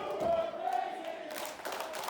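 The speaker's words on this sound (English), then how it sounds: "the crowd is chanting here at the Mid-Florida Event Center, solidly behind Super Crazy" A wrestling crowd at the Mid-Florida Event Center in Florida chants in a steady, sustained roar that swells slightly partway through, heard at a distance as a massed indoor noise.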